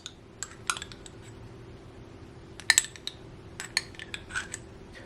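A utensil clinks and taps against a dish while caramel spread is worked over about an ounce of creamy peanut butter. Scattered sharp, quiet clicks come in small clusters over a soft background, with no talking.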